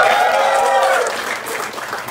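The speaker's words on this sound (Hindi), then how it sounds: "एक दफा ताबिश भाई के लिए तालियां" Audience applause for comedian Tabish Hashmi at his last stand-up show, a dense wash of clapping from a close crowd that stays loud, then eases slightly toward the end.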